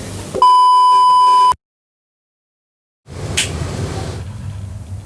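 Repeated electronic beeping from heavy equipment outside a home kitchen where Madura black seasoning is being made, a steady tone cut off by silence, followed by rumbling background noise with a brief higher squeal.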